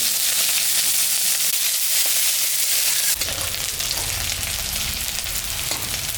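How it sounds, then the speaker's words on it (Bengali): Onion frying in mustard oil in a kadai, with dried red chilli and cumin already tempered in the oil: a loud, dense close sizzle that surges sharply partway through as more goes into the pan. "পেঁয়াজটা ভাজা ভাজা হয়ে গেছে"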